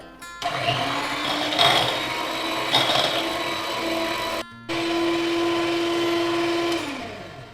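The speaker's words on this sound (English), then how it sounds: "I will blend it all together." An electric blender whirs steadily as it blends a vegan cream cheese mixture made with fresh cream, running loud and continuous with a brief cut-off midway before spinning on again at a steady pitch.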